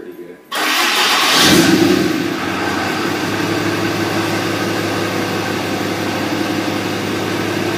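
A 2008 Dodge Ram truck cranks briefly and its engine catches, settling into a steady, close, loud idle rumble that carries through the rest of the moment, with a voice speaking over it.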